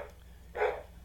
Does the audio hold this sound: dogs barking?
yes